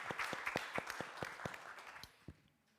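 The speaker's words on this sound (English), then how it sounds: "Hope you can hear the applause." Scattered clapping from an audience after a talk on climate change and displacement, a thin sequence of distinct claps at a loose, roughly even pace that tapers off into quiet near the end.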